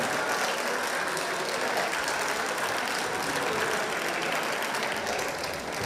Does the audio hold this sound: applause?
yes